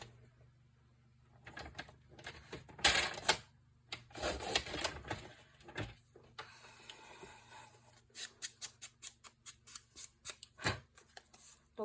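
Scissors cutting off excess paper from an album page, a quiet close series of crisp snips and paper rustles, with steady rhythmic clipping toward the end.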